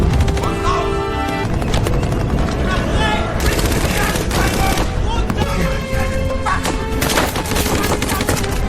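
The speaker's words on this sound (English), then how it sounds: "A German armored vehicle appeared and opened fire as desperation peaked." Gunfire from a German armored vehicle in a WWII film, dense loud rapid bursts and booms mixed with a dramatic score and battle noise throughout.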